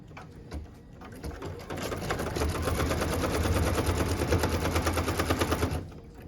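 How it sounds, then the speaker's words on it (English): A sewing machine stitches the tack-down line on a log cabin quilt block, its rapid mechanical chatter rising to a steady run for several seconds and then stopping abruptly, close up with no talking. "What we're stitching now is the tack down line for piece number 4"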